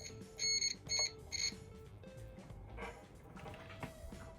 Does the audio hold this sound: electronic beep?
yes